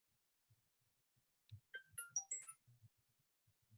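A mobile phone gives a short burst of bright electronic ringtone or notification chirps in a quiet classroom lecture setting, with faint low knocks and movement around it.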